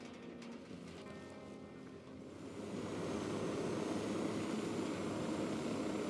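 An aircraft approaches to land on a football field in the video game Ghost Recon Wildlands. It comes in as a steady, rising engine drone that grows louder and then holds, with no talking.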